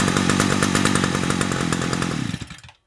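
A Stihl FS300 two-stroke strimmer engine, revived after years sitting in a shed, runs loud and close with a steady buzzing roar, then cuts off and falls silent near the end.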